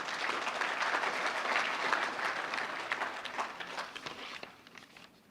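A conference audience at a national tourism and culture event claps steadily for a minister, a dense even roar of hands that stays strong and then thins out toward the end, heard without speech.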